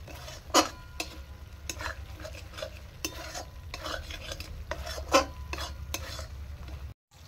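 Masala with Kashmiri chili powder and turmeric being stirred and fried in a pan, a spatula scraping and knocking in uneven strokes over a low, continuous sizzle, close and fairly quiet.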